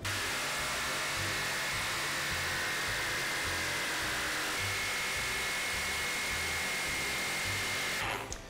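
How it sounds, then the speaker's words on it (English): A jigsaw cuts out a window opening in a wooden dollhouse panel, a steady, loud, high buzzing drone that runs unbroken before the motor cuts off near the end. "So now it's time to get the jigsaw and cut the window out."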